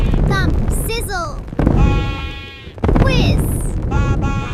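Several quavering goat bleats ring out close by, broken up by sudden loud thumping bursts and a sustained whistling tone.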